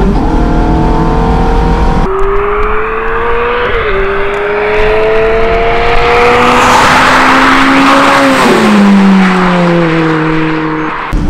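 Michael Schumacher's Ferrari accelerating hard, a loud, close engine rising through the gears with several pitch climbs and drops at each shift, alone without talk.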